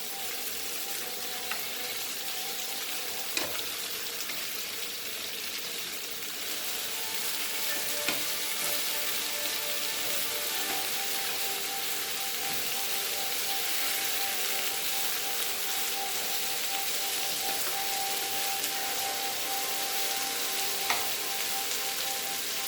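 Tomato cooks in hot oil with green chilies in a pan for paneer mutter gravy, producing a steady close sizzle and bubbling with faint stirring ticks scattered throughout.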